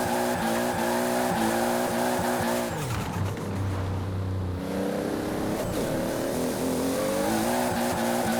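A 2JZ-swapped GT car with an iron-block engine and big, heavy turbo roars continuously in Forza Horizon 4, with tire squeal. The engine drone dips briefly mid-way and then climbs again, loud, with no one speaking.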